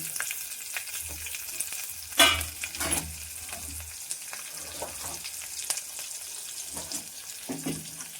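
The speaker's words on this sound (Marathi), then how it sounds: "फोडणी जरा चांगली चरचरली" Steady crackling sizzle of asafoetida, curry leaves, garlic and chilli hitting hot oil for kadhi tempering, with a sharper burst of spitting around the second mark and a few utensil clinks.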